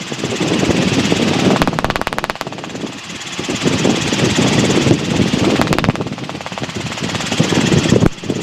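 Robinson R22 helicopter in flight, its engine and rotor drone loud and steady throughout, briefly rising around low rotor RPM, with continuous broadband cockpit noise.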